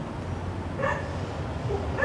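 A dog yips and barks a couple of times, short and somewhat distant, over a steady background hum at an outdoor work site where trailer side walls are being built.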